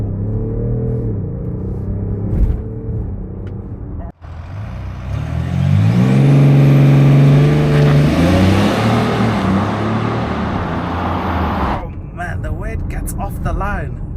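A BMW X5 M50d with 400 hp and an 8-speed ZF gearbox launches hard under launch control, its engine rising to a loud roar heard from inside the cabin, with a gearshift near the end and people talking at the start and finish.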